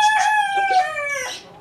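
At a small mini zoo, a rooster crows loudly close by, a long harmonic call that rises and fades over a couple of seconds, with softer chicken clucking mixed in. No one speaks.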